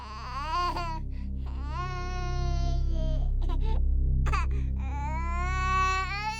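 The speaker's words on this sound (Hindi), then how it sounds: "और बच्चा रो रहा है, उससे शायद भूख लग रही है।" An infant wails in repeated, sustained cries with rising and falling pitch, loud and close, continuing throughout with no talk over it, against a low steady background hum.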